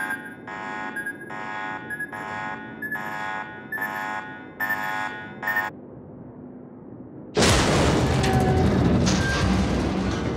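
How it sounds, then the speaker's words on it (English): In World of Warships naval combat with a Japanese carrier, a pulsing buzzer-like alarm repeats in regular bursts, then a loud torpedo explosion erupts and rumbles with further crackling blasts. "Torpedoes to starboard!"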